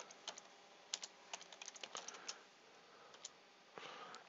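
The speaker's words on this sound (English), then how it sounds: "I'm going to type title." Quick, light clicks of a computer keyboard as a title is typed, irregular bursts of keystrokes close and faint against a quiet room, no speech.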